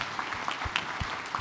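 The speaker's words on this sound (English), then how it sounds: "give them a round of applause as they exit the stage" A conference audience claps as panelists leave the stage. The applause is faint and sparse, a thin spatter of scattered claps heard from a distance.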